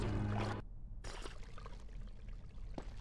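Water poured into a glass for a drink, a brief close trickle and splash at the start, then a short silence and quieter room noise with light clinks, set in a Prince of Persia: The Two Thrones game session.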